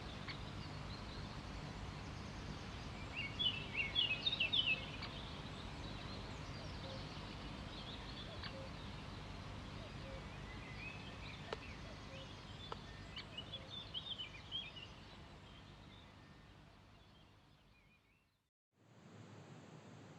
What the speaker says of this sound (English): You can listen to the dawn chorus from in bed, but I would say it's even better to be stood there surrounded by those singing birds.